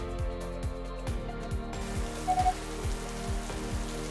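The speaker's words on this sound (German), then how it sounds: "dann kam der Regen." Steady rain pattering in a continuous wash while stuck in a traffic jam on a motorway, with a low rumbling vehicle hum underneath and no talking.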